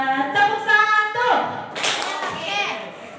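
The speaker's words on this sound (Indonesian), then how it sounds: "Tepuk satu" A group of children claps together on cue in a classroom, sharp claps mixed with young voices chanting and calling out over the beats.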